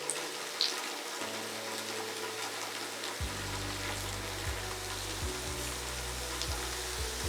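Pre-cooked Canadian bacon frying in a pan, giving off a soft, steady sizzling hiss over low humming tones from the cooking appliance.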